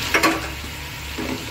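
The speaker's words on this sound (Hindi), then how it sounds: "और लहसुन अदरक को डाल के हम भून लेंगे।" Garlic and ginger fry in a pan with a brief, close sizzling hiss, punctuated by a couple of quick clinks of a utensil stirring against the pan.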